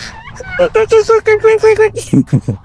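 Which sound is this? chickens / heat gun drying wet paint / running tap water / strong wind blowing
chickens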